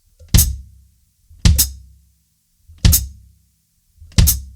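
Four separate kick drum and hi-hat hits played slightly out of sync, each a soft low thud followed a split second later by a sharp bright thump, the pair slightly out of step.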